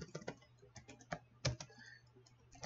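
Keys clatter on a computer keyboard as a diagnostic command is entered on a FortiGate firewall, a run of close, crisp clicks in uneven bursts with short pauses.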